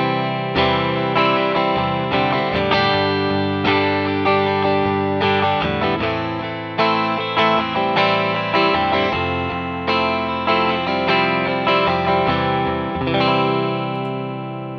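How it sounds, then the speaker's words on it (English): Electric guitar played through a Fender Princeton amp with a York Audio Deluxe Reverb 112 impulse response, strummed chords ringing out loud and close with sustained, slightly driven tone and reverb tails, steady phrases for about fifteen seconds with no talking. "I am adding an impulse response here of a York Audio Deluxe"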